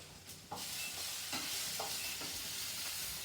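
Onions fry in an old pan with a bright, steady hiss of sizzling oil that swells after a short quieter start, dotted with a few soft stirring scrapes.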